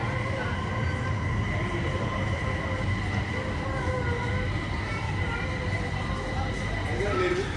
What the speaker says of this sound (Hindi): ये है जी गोंजो की मेट्रो।